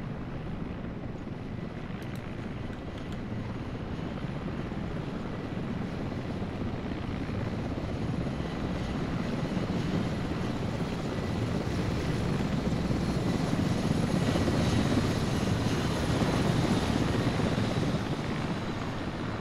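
Helicopter in the military game Arma 3, a steady, loud rotor and engine drone that holds unbroken for the whole stretch and swells slightly toward the end, with no talk over it.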